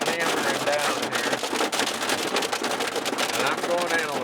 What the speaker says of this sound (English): I don't know if you can even hear me without the hail hitting the truck here.